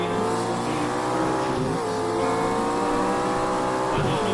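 A hybrid supercar brakes on a race track, its engine note sliding down in pitch as it decelerates. The sound is loud, continuous and close, with the engine tone shifting as the car slows, and no talking is heard.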